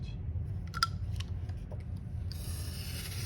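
A blade cuts cardboard to make a birdhouse, producing a soft rasping, scraping sound with a few small clicks and rustles. Close and fairly quiet over low room noise, with no speech.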